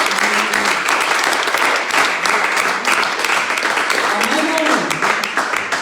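Church congregation applauding at a Sunday service, dense sustained clapping filling the space at a steady level throughout, with voices and a brief sung or called tone mixed underneath.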